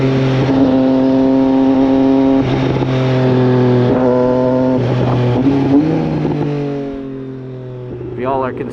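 Triumph Street Triple 765 RS motorcycle engine accelerating hard through several gears, loud and close, its tone climbing and dropping at each shift with a strong steady drone.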